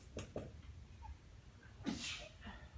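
A person sneezes during a calculus lecture, with a couple of short breathy intakes before one sharp, fairly close sneeze in a quiet room.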